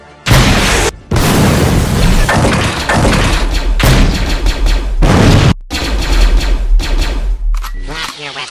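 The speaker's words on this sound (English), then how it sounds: "Bring up the rocket launcher." Loud, dense bursts of blasts and gunfire from a Lego Star Wars skirmish video game, rocket launcher explosions booming in quick succession with brief gaps, nearly continuous over several seconds with a voice mixed in.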